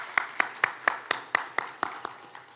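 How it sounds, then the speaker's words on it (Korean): A church congregation at a Sunday worship service claps about ten times in a slow, even rhythm, the sharp claps ringing slightly in the room and fading a little toward the end. "다시 한번 박수로 격려해 주시면 감사하겠습니다"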